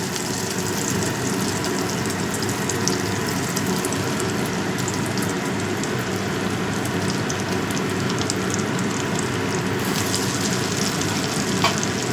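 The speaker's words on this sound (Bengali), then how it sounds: "এবার এই ফিশ ফিঙ্গারগুলো সব ভেজে নেব" Fish fingers fry in a wok of hot oil with a dense, continuous crackling sizzle that holds steady throughout, with a few faint clicks near the end.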